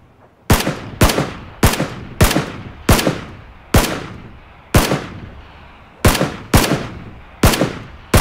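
Gunfire from a video game during a fight involving a bike: about eleven loud, sharp single shots fired at irregular intervals, each with a short decaying tail, and no talking.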